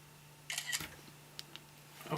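A camera shutter clicks several times, crisp and close, in a quiet room during a Stihl FS80 trimmer carburetor removal, with a few separate snaps spaced apart and no talking.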